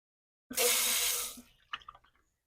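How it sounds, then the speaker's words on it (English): Hands being washed under a running tap at a sink: a steady rush of water for about a second, then it stops and a few drips and splashes follow, close and clear. "Now I'm going to go wash my hands because I cannot touch my model until my hands are washed."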